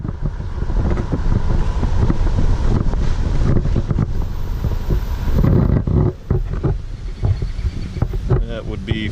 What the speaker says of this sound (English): That would be Feather Creek. It's flowing pretty good today.